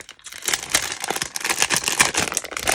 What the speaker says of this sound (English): Don't you just love the sound of the rustling?